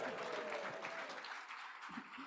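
Audience at a Rotary club meeting applauding to welcome visiting students, a quiet, even patter of many hands clapping that continues throughout.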